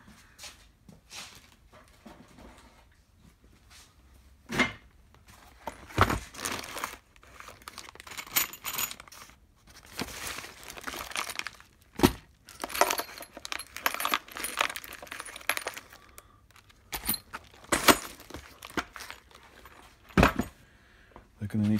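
Small screws rattled and shuffled in a box while hunting for short ones during a BSA Fury SS motorcycle engine build, with intermittent clinks and metallic rustling coming in bursts up close.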